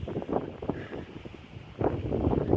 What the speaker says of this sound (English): Wind started kicking up real bad